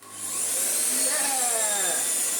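A Vorwerk VK135 vacuum cleaner motor, a repair unit, spins up from start and settles into a loud, steady whine with a strong high-pitched hiss, running alone close to the microphone.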